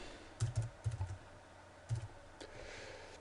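Short bursts of keystrokes on a computer keyboard, a few quick clustered taps followed by a pause and another brief pair, close and soft in a quiet room.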